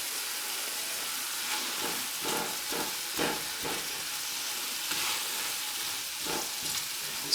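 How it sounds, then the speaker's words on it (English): Cabbage soup ingredients sizzle and fry in a pan on a stovetop, giving a continuous close hiss broken by repeated bursts of crackling as the contents are stirred, with no talking. "Of course you'll know because you won't hear it sizzling."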